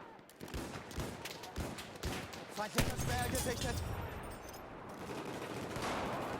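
A Martini-Henry single-shot rifle fires in a Battlefield game, a string of sharp, loud cracks in quick succession followed by a rumbling echo and lingering battlefield noise.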